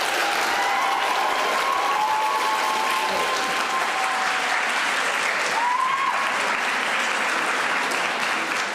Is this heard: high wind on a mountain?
no